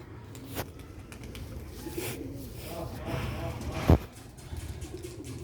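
Slate-grey pigeons in Sialkot coo softly nearby in a low, repeated murmur, while someone talks over them and a brief sharp knock cuts in near the end.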